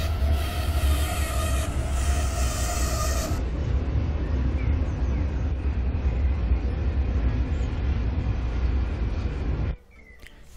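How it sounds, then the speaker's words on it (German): A Talent S-Bahn railcar in the EEP railway simulator brakes with a loud sustained high squeal over a heavy rolling rumble, the squeal cutting off after about three seconds while the rumble continues, then everything stops abruptly near the end. "Das Bremsenquietschen ist so ein EEP-Standard-Sound."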